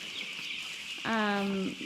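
Chickens crowded by the thousands in a gas-heated farm barn give a short, clear cluck-like call over a steady background hum from the flock.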